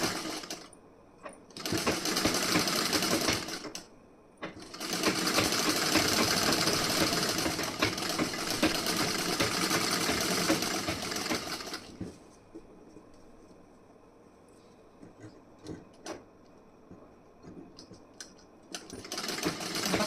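A sewing machine stitching the front part of a wedding blouse, running in fast whirring bursts with short pauses between, then quieter clicks and handling of fabric, close and fairly soft.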